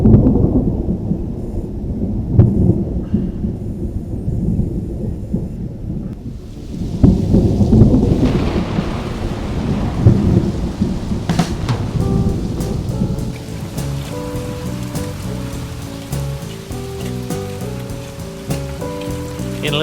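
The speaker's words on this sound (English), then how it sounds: "It's still raining." Steady heavy rain roars close by, with deep rumbling thunder rolling underneath and occasional sharper cracks, continuous throughout.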